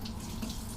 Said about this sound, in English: I'm just going to run it under my pure water just to rinse off anything that shouldn't be there